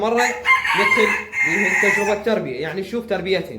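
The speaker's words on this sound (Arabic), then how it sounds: "اللي عندي للبيع اخوان عندي هذا الديك التهجين" A hybrid rooster crows with drawn-out, harmonic calls repeating through the whole stretch, loud and close, while someone talks over it.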